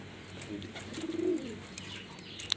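Pigeons cooing in a loft, a low soft coo swelling in the middle over faint background chirps, with a brief sharper click near the end.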